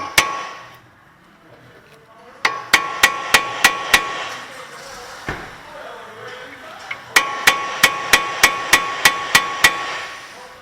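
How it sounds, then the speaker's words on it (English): A hammer strikes a Toyota front CV axle nut to crimp it, ringing metallic blows in two quick runs of about six and eight evenly spaced hits, loud and close, with a few scattered knocks and a brief voice between. "you're going to want to crimp this nut to keep it from moving"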